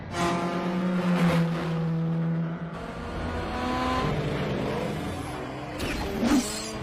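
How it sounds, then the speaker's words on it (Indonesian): A race car on a circuit in Fast and Furious (2001) revs and accelerates, its engine tone climbing and shifting through gears, loud and close, with a whooshing pass near the end. "Pada pagi harinya, Brian mengetes mobil balapnya di sirkuit."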